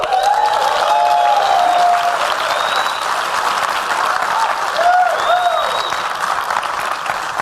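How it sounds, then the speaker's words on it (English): Sustained applause from a large audience, dense clapping throughout with a few faint voices and whistles mixed in, no pause. "give him one more round of applause"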